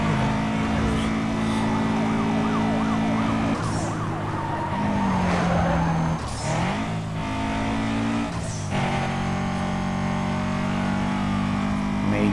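Police siren wails in the Need for Speed: Most Wanted video game during a chase in a Subaru Impreza WRX STI, sweeping up and down beneath a steady engine drone with bursts of revving and a player talking over it.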